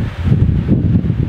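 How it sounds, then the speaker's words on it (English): A metal lathe running in a lower gear while reconditioning a steam try cock valve gives a loud, steady low rumbling hum, alone and unbroken. "Put the lathe in a lower gear now."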